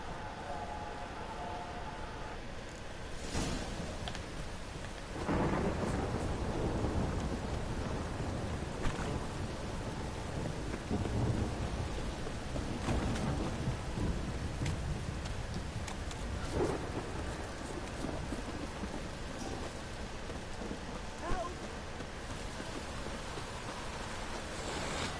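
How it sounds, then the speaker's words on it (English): A thunderstorm with heavy rain in the video game The Witcher 3: a constant roar of rain broken by several deep rolling thunder rumbles and sharper cracks, heard without talk. "This downpour's a bastard,"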